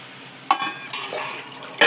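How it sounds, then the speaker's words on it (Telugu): Water poured into a curry cooking in a pan, a short splashing pour starting abruptly and continuing in uneven bursts, close and fairly loud, with no talking. "కొంచెం వాటర్ వేసుకుందాం"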